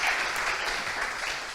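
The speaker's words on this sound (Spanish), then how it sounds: "Les pido un fuerte aplauso para recibir al primer grupo." Brief burst of steady audience clapping at a tech demo day as a project team is welcomed, dense and fairly close, running throughout the short stretch.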